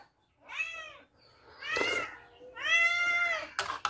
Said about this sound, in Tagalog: Yung maingay yung pusa ko.